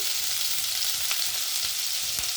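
Chopped ginger and green chilli fry in hot oil with five-spice seeds, making a steady, dense sizzle close up. A few faint stirring taps come through, and nobody speaks.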